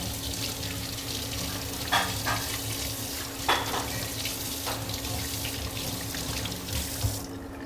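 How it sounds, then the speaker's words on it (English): Running tap water rinsing a pigeon carcass in a professional restaurant kitchen, a steady rushing stream with occasional splashes and clatters as the bird is moved under it, then cutting off near the end. "We're gonna rinse it with some clean water."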